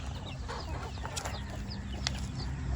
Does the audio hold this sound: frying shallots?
no